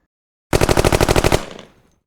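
Savage 135A bolt-action .22 Long Rifle firing, heard as a loud, close burst of about ten rapid sharp cracks over roughly a second, with a short decaying echo trailing off; no voices.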